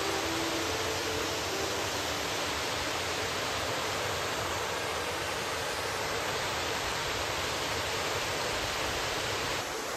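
Kiyo waterfall in a Japanese jungle pours as a dense, loud, unbroken roar of falling water that holds steady throughout.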